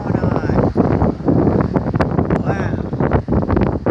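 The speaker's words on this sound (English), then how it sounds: "It's really, really, really windy." Strong gusting wind from Hurricane Matthew buffets the microphone in loud, rough bursts, with brief lulls between the gusts and rustling mixed in.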